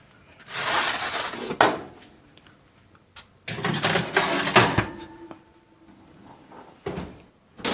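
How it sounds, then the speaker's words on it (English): A pan of chicken wingettes goes into the oven: a metallic oven door creaks and clunks open, the pan slides and rattles on the rack, then the door bangs shut, in several close, distinct bursts. "So I'm placing them in the oven."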